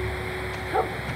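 A dog in the video game The Last of Us Part I gives a single short, sharp bark partway through, standing out briefly over a steady background game ambience.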